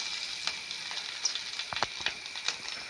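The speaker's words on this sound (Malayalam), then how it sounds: "പച്ചമുളക്, കാന്താരിമുളക് ഇടുമ്പോൾ ശ്രദ്ധിക്കണം, അത് പൊട്ടും." Green chillies and bird's eye chillies sizzle steadily in hot oil for a pickle, with scattered sharp pops and crackles over a continuous close frying hiss.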